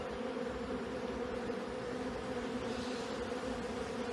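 Honeybees humming steadily at an acacia hive during a hive inspection, a dense, continuous buzzing drone close by with no speech.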